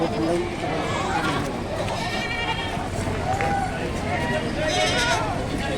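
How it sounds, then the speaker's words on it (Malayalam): Malabari goats and young kids bleat at a busy livestock market, several animals calling near and far over a constant crowd murmur while people talk throughout. "ഇതെല്ലാം മലബാറിയാണ് മലബാറി കുഞ്ഞുങ്ങളാണ്"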